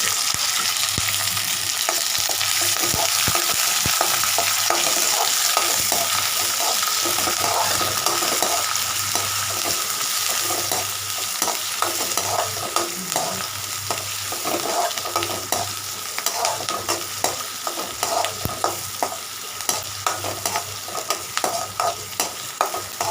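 Green chilies, ginger-garlic paste and curry leaves fry in a pan for appalam kootu, a loud continuous sizzle with repeated scraping stirs, close up and without talk.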